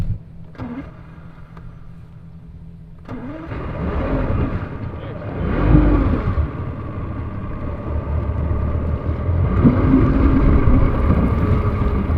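Bass boat outboard engine at a farm pond cranks briefly, then catches around three seconds in and runs steadily with rising, uneven revs, close by, while people talk and cheer over it.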